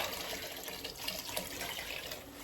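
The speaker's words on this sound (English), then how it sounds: "I'm going to go in with some water" Water pours steadily into a pot of soft cooked meat, a continuous faint splashing trickle with no talking.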